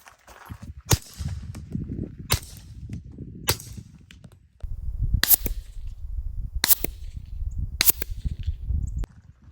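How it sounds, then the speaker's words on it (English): Six sharp suppressed .45 ACP gunshots fired with subsonic Hush ammunition crack out at irregular intervals, each a brief loud snap over a steady low rumble of outdoor wind and handling noise. "45 ACP suppress is just always really, really quiet and quite fun as well"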